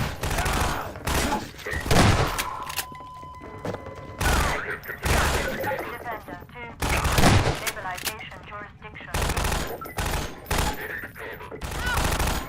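Rapid gunfire bursts from the video game Half-Life 2 come in loud repeated volleys separated by brief pauses, close and punchy throughout.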